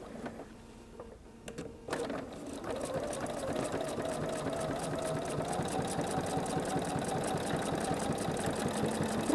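A sewing machine stitches twin-needle rows along a quilt seam, starting with a few slow stitches and then running at a steady fast mechanical whir close up, with no talk.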